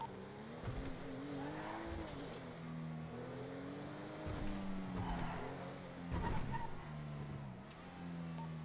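A black Acura drives in GTA RP, its engine droning at a steady moderate distance with rising and falling revs as it accelerates and shifts, fairly quiet and continuous with no one talking.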